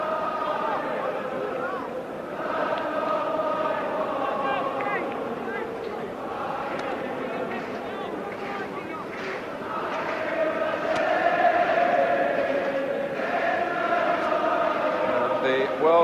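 Welsh supporters at a 1983 friendly against Brazil sing and cheer en masse, a broad tuneful crowd chant rising and swelling, swelling louder toward the end, with a commentator's voice over the top.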